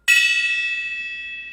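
A single game-show gong struck once, a bright metallic ring that blooms loudly and then hangs on, slowly fading with no voices over it.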